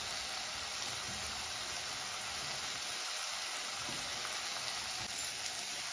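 Spice masala of cumin, coriander and kitchen king powders frying in a pan for khichuri, a faint, even, steady sizzle with no voices.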